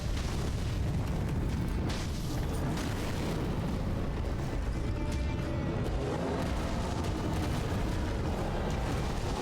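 Booming, rumbling blast from a boss's jump attack in Sekiro: Shadows Die Twice, a dense continuous roar of low-end explosion noise sustained loudly throughout with no voice.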